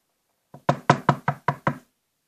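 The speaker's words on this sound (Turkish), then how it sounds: "Kapı çaldı." Six sharp knocks on a door come in a quick, even series after a short silence, each one firm and close, then stop.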